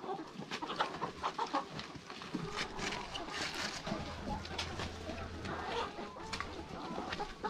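Chickens cluck and chatter close by in short, overlapping bursts, with a low hum and faint rustling underneath.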